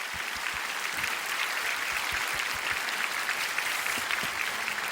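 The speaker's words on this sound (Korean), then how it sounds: "박수 한번 주시면" Sustained audience applause fills the room at a prayer gathering, steady and dense clapping from start to finish with no talk over it.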